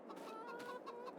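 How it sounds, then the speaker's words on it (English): Chickens in a farming video game clucking in short repeated bursts, close and clear with no talk over them. "Then we're going to go take a look at our chickens"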